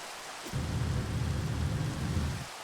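Rain and thunder in the video game Minecraft Sky Factory 3, a sudden deep rumbling roll that starts abruptly and holds for about two seconds before cutting off, over a steady hiss.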